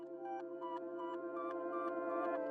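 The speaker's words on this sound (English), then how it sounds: "Then I chopped off the end and reversed it so it sounds like this." A reversed, chopped piano sample with sustained tonal layers swelling backward, repeating pulses roughly every third of a second, moderately loud and without voices.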